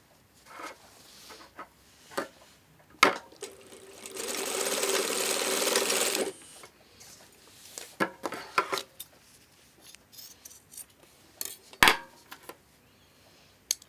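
A sewing machine tacks the end of a garment placket in one short, close whirring run of about three seconds, framed by clicks, taps and fabric handling noises in an otherwise quiet room.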